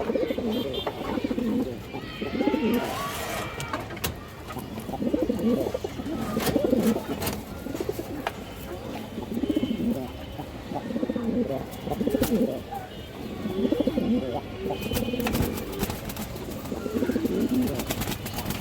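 Pigeons, racing birds of red khaki and similar breeds, coo in repeated low throaty phrases close by, rising and falling in waves over faint background noise.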